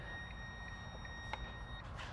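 A building alarm beeps in a business space, sounding as a faint, steady high tone with regular short pulses over low room rumble.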